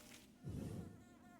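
Bees buzz briefly in the Hollow Knight video game, a faint low droning swell lasting under a second amid quiet background.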